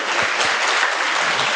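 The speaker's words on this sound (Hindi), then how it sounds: "एक बार जोरदार तालियों से अपना आनंद व्यक्त करेंगे" An audience at a stress-relief camp gathering claps loudly and steadily, a dense, sustained burst of applause filling the whole moment.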